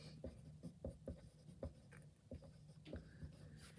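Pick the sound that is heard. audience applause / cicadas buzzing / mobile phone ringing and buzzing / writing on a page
writing on a page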